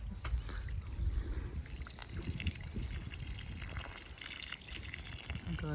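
Water from a makeshift hose connection pours onto trees in hot weather, a low, steady gushing and splashing that runs continuously and close by.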